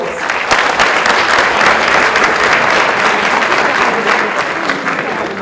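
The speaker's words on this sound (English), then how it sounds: "a round of applause" A round of applause from a seated audience at a teaching studies class, dense and steady clapping that holds at full strength for several seconds before easing slightly at the end.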